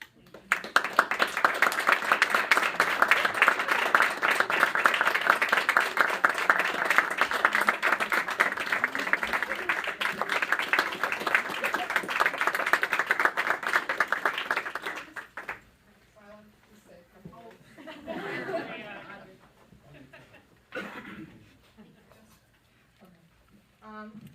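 Audience applause at a board meeting, a long stretch of many hands clapping steadily for about fifteen seconds, then dropping away as a few voices talk.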